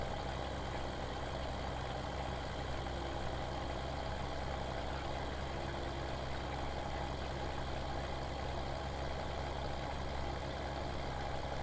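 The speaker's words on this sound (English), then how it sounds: "That's no way to drive a tractor." Tractor engine running steadily while cultivating a field, a constant low droning rumble with even mid-range hum throughout, loud and uninterrupted with no voices.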